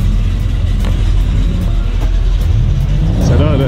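A 1973 Chevrolet Impala running at an outdoor American car show, a loud, close, rumbling engine that rises in revs toward the end, with voices talking over it.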